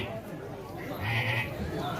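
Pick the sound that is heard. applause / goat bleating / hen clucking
goat bleating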